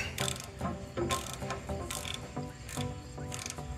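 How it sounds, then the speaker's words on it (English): A ratchet clicks in quick bursts while a nut is backed off the end of the injector pump shaft on a Case 621 loader, the pawl ticking in short close strokes. "Now we can go ahead and remove our nut off the end of our injector pump shaft."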